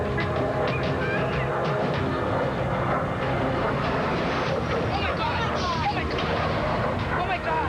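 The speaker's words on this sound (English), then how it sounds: "lifts his vintage Saberjet into the skies" A vintage Sabre jet roars through an aerobatic routine at an air show, a steady, dense engine rumble that stays loud throughout, with a narrator talking over it.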